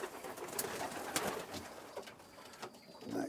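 Racing pigeons coo in a loft, a soft continuous burbling chorus of several birds close by, with rustling and occasional wing or movement noises mixed in.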